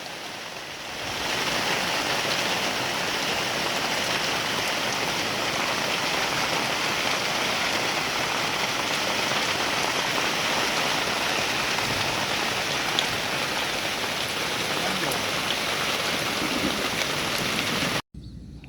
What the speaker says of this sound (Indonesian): Hujan mas bro, hujan deras.